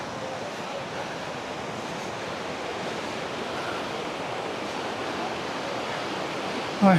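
A heavily flowing waterfall at Valparai roars as an even, continuous wash of water, moderately distant and unbroken, with a brief bump near the end.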